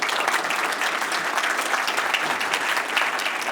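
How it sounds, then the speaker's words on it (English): An audience at a lecture by an ambassador applauds steadily, a dense, even clatter of many hands clapping at moderate distance, with no voices on top. "She's never heard anyone applaud me."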